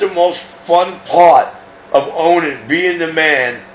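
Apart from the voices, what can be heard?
No everyday noise stands out behind the speech.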